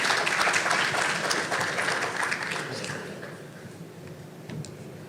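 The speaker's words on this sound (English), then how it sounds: "Let's give him a round of applause." An audience at an outdoor statue unveiling ceremony applauds, dense clapping filling the space and slowly thinning as it fades.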